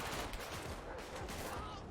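Rapid gunfire from GTA 5 weapons, reworked for fire rate, recoil and muzzle flash, crackles in a dense, continuous burst of overlapping loud shots for nearly two seconds.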